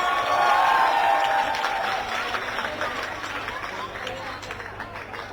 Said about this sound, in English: let's give a huge round of applause for all the teachers